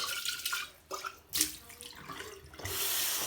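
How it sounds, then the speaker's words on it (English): A jar that held Gamsol solution is rinsed under a running tap at a sink. The water gushes and splashes in uneven bursts, then settles into a steady close flow. "rinse it, whatever you gotta do until the water becomes nice and clear once you pour it out."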